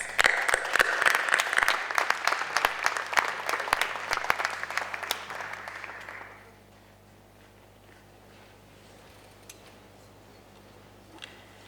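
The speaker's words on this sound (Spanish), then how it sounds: "Le damos un aplauso grande al arquitecto Mariano Bruselas" Audience applause for an architect at a university lecture event: crisp, lively clapping for about six seconds that stops fairly abruptly, leaving a quiet room with a few faint sounds.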